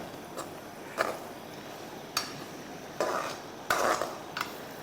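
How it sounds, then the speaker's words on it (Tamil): Grated coconut roasting to golden brown in a pan while being stirred, a soft steady sizzle punctuated by several scraping clinks of a spoon against the pan. "இதை வந்து கோல்டன் ப்ரௌன் பொன்னிறமா வறுக்கணும்."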